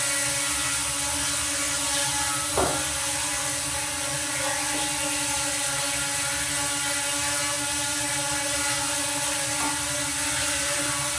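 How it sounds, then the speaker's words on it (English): A Ruko U11 Mini 4K drone hovering close by, a loud, steady mechanical whir from its motors and propellers with a constant buzzing drone, plus a few faint clicks. "Yo, it's a really nice drone."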